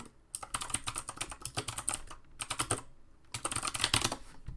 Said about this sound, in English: You'd never seen typing like that.